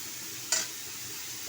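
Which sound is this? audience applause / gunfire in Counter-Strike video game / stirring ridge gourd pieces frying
stirring ridge gourd pieces frying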